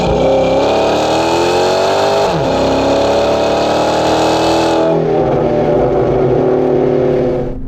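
Dodge Magnum SRT8 wagon with a Hemi V8, Flowmaster rear exhaust section and streamlined catalytic converters revs loudly up and down nearby, a deep throaty burble that climbs, dips and settles to idle.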